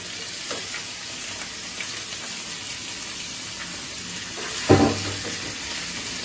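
Onions fry lightly in oil over tempered spices for Jodhpuri chicken, with a steady close sizzle and one brief metallic clank partway through.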